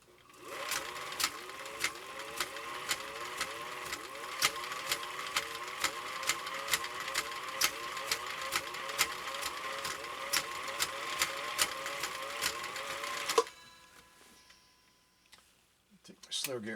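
A Husqvarna Viking CI 21A sewing machine in slow gear stitches with a steady, rapid mechanical chatter and regular ticking beats. A voice talks over it, and then the machine stops, leaving quiet handling noises.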